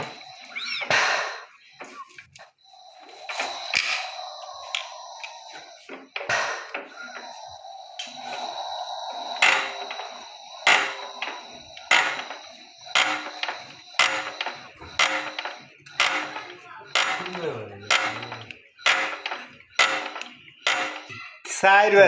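A Changchai 25 hp diesel engine fuel injector nozzle spraying fuel during nozzle setting, giving sharp metallic pops and hisses in an irregular series, close and fairly quiet, with someone talking between and over them.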